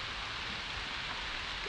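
Steady, even hiss of falling rain, faint and constant, with no voices or other distinct sounds.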